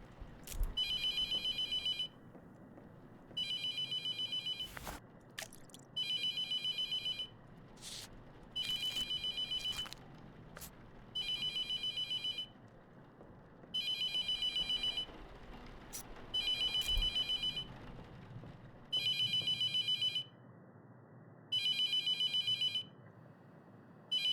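A telephone rings in the horror video game The Mortuary Assistant, a shrill electronic ring repeating in regular bursts with short silent gaps, about nine rings in a row, fairly clear over a quiet background.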